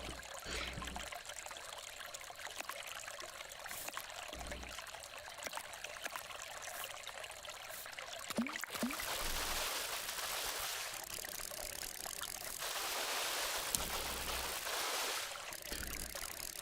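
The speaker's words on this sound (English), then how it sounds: "The water sounds good." Water trickling and lapping in a mangrove island survival game, a steady soft flowing stream with gentle splashes and occasional swells, faint and continuous.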